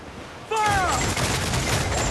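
Ship cannons fire in a pirate naval battle in Assassin's Creed 4 Black Flag. A voice shouts a command, then a loud, sustained roaring volley of blasts follows.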